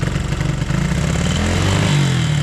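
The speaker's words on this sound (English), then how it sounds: "Let's rev this baby up." A restored 1975 Honda CB125S barn-find motorcycle engine revs up close and loud, a rough clattering single-cylinder drone that climbs in pitch toward the end, with no talk over it.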